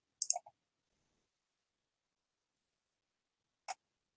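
Mouse clicks while analysing Scopus search results: a quick cluster of two or three sharp clicks near the start, then a single isolated click a few seconds later, close and crisp in otherwise near-silence.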